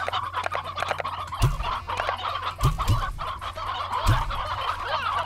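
Stony hens in the video game Slime Rancher cluck over a steady bed of game music and ambience, with a few louder, sharper clucks standing out.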